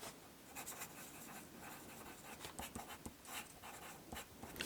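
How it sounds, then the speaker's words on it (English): Pencil scratching across paper in a journal, a soft close-up series of quick strokes in irregular bursts, quiet and alone with no talk. "And I'm going to write this in pencil."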